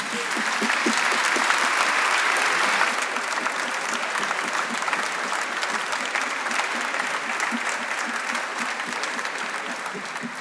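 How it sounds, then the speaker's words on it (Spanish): Sustained audience applause at a 50th-anniversary concert, a dense, even wash of many hands clapping, loud and steady throughout, easing slightly toward the end with no one speaking over it. "Un aplauso para Pilar Fuentes."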